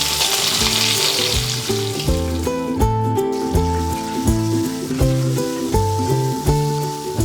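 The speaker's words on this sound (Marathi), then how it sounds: "हा कांदा आहे हा चांगला व्यवस्थित जाडसर चिरून घेतलेला आहे हा यामध्ये टाकते" Coarsely chopped onion dropped into hot oil for a tender coconut dish, giving a hissing sizzle that runs under a prominent melodic music track throughout.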